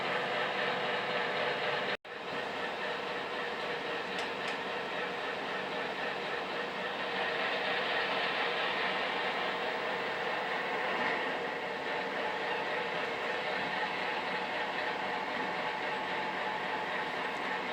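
An HO scale Broadway Limited Southern Pacific ALCo RSD-15 model diesel locomotive runs with a steady, close, broadband rumbling drone that drops out for a moment near the start and then continues evenly.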